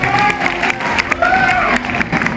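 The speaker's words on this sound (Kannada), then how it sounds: "ಸೊ ಬರ್ಲಿ ನಿಮ್ಮೆಲ್ಲರ ಚಪ್ಪಾಳೆ." An audience at a Republic Day program claps and cheers for a student performance, a loud, mixed crowd noise with a voice talking over it.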